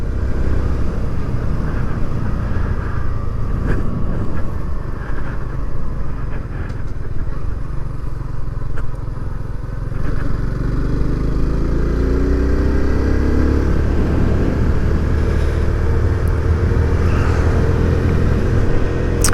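A 2023 Kawasaki Z125 small motorcycle engine heard from the rider's seat, droning steadily and loud with rising and falling revs as it accelerates through gears, wind rush layered over the constant engine note.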